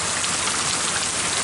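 Steady rain falling and pattering on surfaces, a dense, even hiss with no voices, continuous and fairly close throughout.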